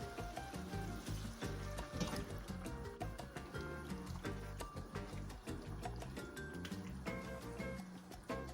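Bean cooking liquid pours into a pan of frying chorizo refried beans, a continuous splashing trickle with sizzling, close and fairly quiet, with no talk over it.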